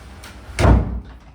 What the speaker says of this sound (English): Open that door. Close.